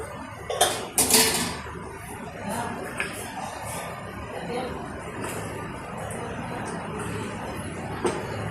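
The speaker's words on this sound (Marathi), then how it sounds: "फ्राय पॅन ठेवते, त्याच्यामध्ये बटर टाकूयात." A frying pan is set down on a stove with a couple of metallic clanks near the start, followed by softer kitchen rustling and faint clinks as butter goes in for tawa pulao.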